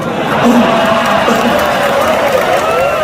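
Crowd at a Maulid Nabi religious gathering with a preacher in South Korea, a loud continuous wash of applause and crowd noise with cheering mixed in.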